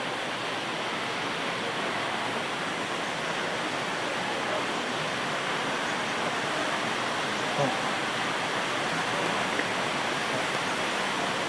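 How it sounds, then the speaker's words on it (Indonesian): A river fed by the Montel waterfall on Mount Muria rushes steadily nearby, a continuous broadband roar of flowing water with no breaks. "kami harus menyeberangi sungai yang mengalir di depan kita, yaitu alir dari air terjun Montel"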